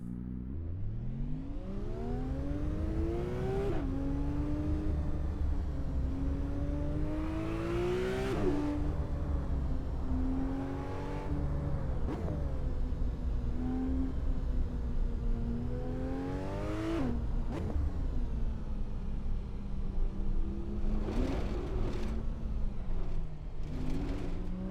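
Rally car engine in the Assetto Corsa racing game on a winding Corsican tarmac stage, revving up and down through the gears continuously, with sharp pitch climbs and drops as it shifts and brakes, close and steady throughout.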